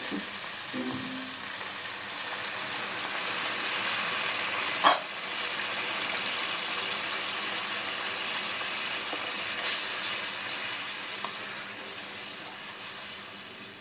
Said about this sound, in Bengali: এবার আমি এর ভিতর জল দিয়ে দেবো।